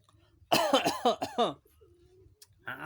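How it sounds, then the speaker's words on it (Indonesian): Several sharp coughs in quick succession close to the listener, followed by a short pause and a quieter throat-clearing sound. "Batuk, batuk."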